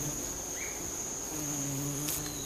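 An oil-collecting bee works over a flower inflorescence, its wings giving a steady, close, continuous buzz that never stops.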